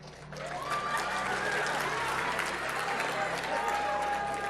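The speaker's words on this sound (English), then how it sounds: "that round of applause felt really weird" Broad, even audience applause at a religious talk, a continuous wash of many clapping hands at moderate distance, with a steady low hum underneath and voices mixed in.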